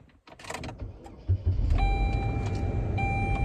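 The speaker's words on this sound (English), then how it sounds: "I'm going to turn on my car because it's actually cold out." A car engine cranks and catches, then settles into a steady low idle heard from inside the car on a cold day, with a faint high electrical whine over it.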